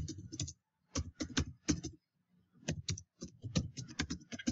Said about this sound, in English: just simply type in your name